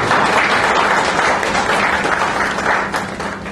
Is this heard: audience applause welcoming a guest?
yes